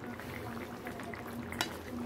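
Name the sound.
food simmering while cooking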